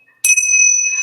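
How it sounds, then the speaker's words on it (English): A pair of tingsha, small hand bells, struck once and ringing with a bright, sustained metallic tone that hangs in the air and slowly fades, close and clear with no voices. "I went out and bought myself, some tincture bells, which I totally love"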